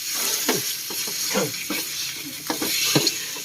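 Steady sizzling of food frying in a hot pan, with repeated scraping and clattering strokes as it is stirred, close and continuous.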